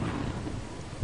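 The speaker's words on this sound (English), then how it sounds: "Is it stormy? It's stormy." Thunderstorm in the video game Lethal Company, a steady loud wash of rain with a low rumbling roll of thunder filling the whole moment, no voices.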